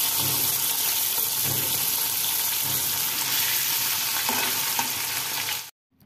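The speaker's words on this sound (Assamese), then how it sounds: "আৰু এতিয়া মাছখিনি ফ্ৰাই কৰি লম" Small fish pieces frying in oil in a karahi, with a loud, steady, close hiss and sizzle and a few faint stirring knocks, cutting off abruptly near the end.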